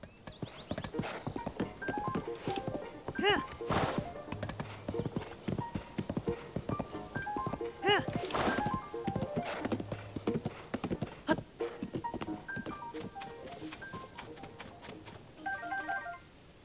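Horse hooves clip-clopping along a road in Zelda: Tears of the Kingdom, a steady rhythmic trot up close with game music and occasional effects layered over it.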